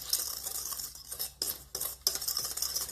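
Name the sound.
whisking flour and dry ingredients in a bowl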